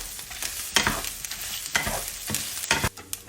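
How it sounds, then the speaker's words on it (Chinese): Spicy beef with white sesame, cumin and a spoon of sugar being stir-fried in a wok, with repeated loud scraping stirs and clanks over a steady sizzle, no talk. "然后继续翻炒"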